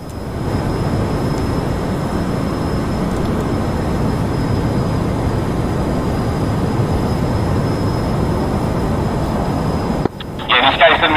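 A jet aircraft on afterburner roars loudly and steadily in the flight combat game DCS World during a Cold War campaign refuelling run. The broad roar continues unbroken, then drops away abruptly near the end.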